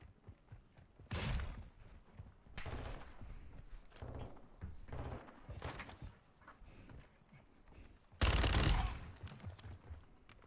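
Shotgun blasts in Modern Warfare 2 combat against bots defending houses, several loud booming shots spaced a second or two apart with one especially heavy blast near the end over game ambience.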